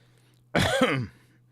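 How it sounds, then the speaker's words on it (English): A single short, harsh throat-clearing cough from a man recovering from a car crash, close and alone against a quiet background hum. "I just got like this lingering cough now"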